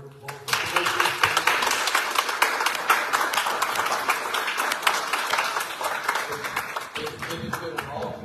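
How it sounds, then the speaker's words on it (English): A meeting audience gives a round of applause for a leadership team, steady dense clapping that starts abruptly and holds for several seconds, with some voices mixed in. "Could you please give them a round of applause?"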